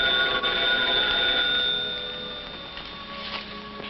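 A vintage telephone bell rings in a sustained metallic trill, loud at first and then fading lower while it continues, with a faint hum underneath.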